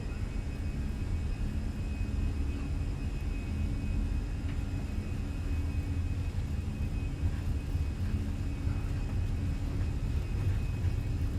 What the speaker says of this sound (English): Brakes released. Takeoff power set.